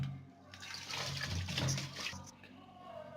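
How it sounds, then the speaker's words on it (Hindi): Water poured over an RO water purifier filter housing to rinse it, a fairly close splashing gush that swells for a couple of seconds and then tapers off, with no talking. "हम पानी डालकर धो लेते हैं।"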